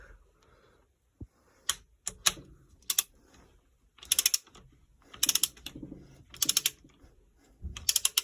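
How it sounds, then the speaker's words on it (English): Torque wrench set to 34 Nm tightening spark plugs on a Triumph Spitfire; sharp mechanical ratchet clicks come in irregular clusters and single snaps, close and clear, with no speech. "So remove this wrench and put the other one on, which is set at 34 Newton meters of torque."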